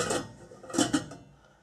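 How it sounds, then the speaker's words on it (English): A lid set down onto a pot of hot ginger beer liquid, giving two quick metallic clinks close by, with faint clatter before them. "And put on the lid."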